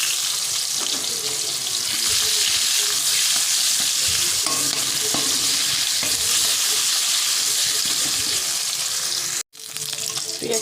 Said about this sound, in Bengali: একটা পেঁয়াজই দিয়ে পেঁয়াজটা লাল করে ভেজে নেবো